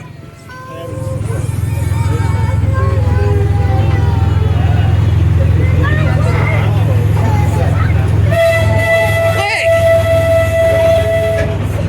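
A park train rolls into a station with a steady low rumble of wheels, then sounds a horn with long tonal toots near the end, while people talk over the noise.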